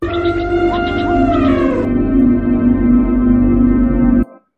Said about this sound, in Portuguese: Fica a música de fundo como se fosse um elefante berrando assim, barulho de selva.